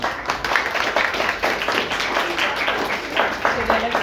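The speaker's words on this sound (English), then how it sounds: "Let's give a round of applause to Aiko." Audience applause after a talk: steady, dense clapping from a crowd filling the room, with some voices mixed in underneath.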